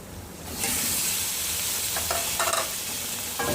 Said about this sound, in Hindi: चिकन को अच्छी तरह फ्राई करना है